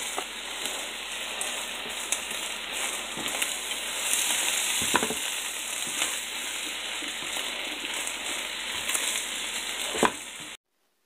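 Sausage sizzles in a frying pan with a steady, close, crackling hiss and scattered pops, running alone for about ten seconds before cutting off abruptly.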